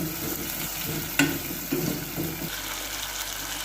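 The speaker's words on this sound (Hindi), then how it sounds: "अभी आलूओं को हमने इसके अंदर फ्राई करना है" Potatoes frying with spices in a pan for keema aloo, a steady hiss and sizzle with a few sharper clinks and stirs.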